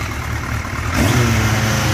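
A motorcycle with an FTR 1300 exhaust runs loudly nearby, a steady engine rumble that rises slightly in pitch midway, no talk.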